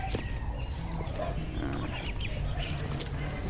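A hen clucks near its coop among other farm fowl, short clucks scattered over a steady outdoor background of low rumble and a constant high insect-like whine.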